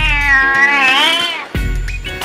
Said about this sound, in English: There are cats there that probably won't kill you.